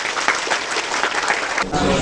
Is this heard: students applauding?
yes